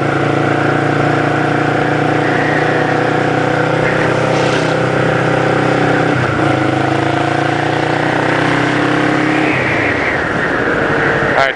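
A motorcycle engine drones loudly and steadily during a ride through a turn, its pitch dipping briefly midway and again dropping near the end as the revs change.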